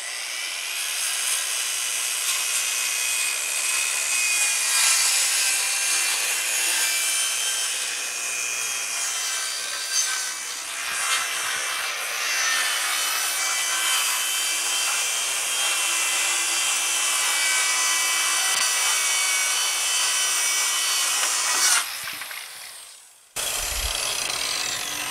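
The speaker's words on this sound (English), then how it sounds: "This is an easy way to rip some plywood." Power saw ripping a sheet of plywood with a long level clamped down as a rip fence, a steady loud whining cut held for over twenty seconds before the blade breaks free and the sound drops abruptly.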